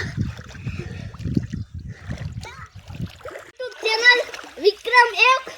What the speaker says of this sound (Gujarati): જો મિત્રો પાણીમાં બ્લોક ઉતારે છે